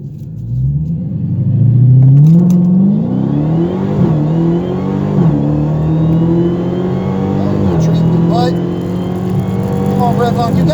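A stock Dodge Hellcat launches hard in a quarter-mile drag race, its engine roaring up through the gears with rising and dropping pitch at each shift, loud and close from inside the car while people talk over it.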